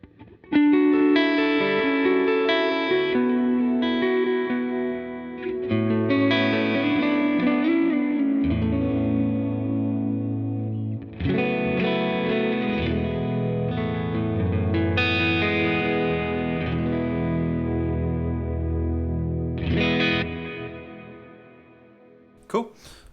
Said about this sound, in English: go to some hall reverb with that.